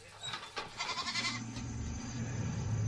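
Goats penned in a cage bleat in a rapid cluster of wavering cries, then a lower, steady rumble of movement and noise continues beneath them.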